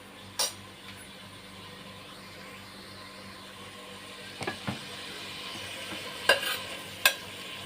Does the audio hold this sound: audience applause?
no